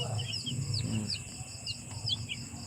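Chickens cluck and chirp close by at a freshly built coop, with higher chick peeps repeating over a steady low farmyard background.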